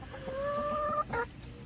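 A chicken in a backyard homestead coop gives a drawn-out, tonal cluck followed by a shorter squawk, close and fairly quiet over faint background noise.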